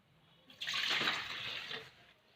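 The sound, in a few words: milk being poured for banana milk juice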